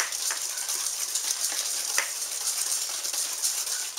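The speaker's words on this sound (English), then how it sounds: "I was stirring in the egg yolk into the sugar." Egg yolk being stirred into a pound of sugar in a bowl for aged eggnog, giving a steady gritty scraping and swishing that runs close and continuous with no voices.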